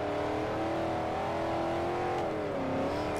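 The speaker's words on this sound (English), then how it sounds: "Let's do some Tokyo drifting." Car engine in the racing video game Forza Horizon, a steady loud revving tone held throughout while the car drifts, pitch wavering slightly as it slides and shifts, with no talking.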